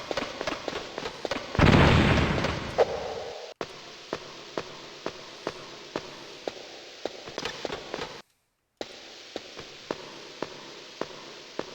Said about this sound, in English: Stun grenade! Stun grenades!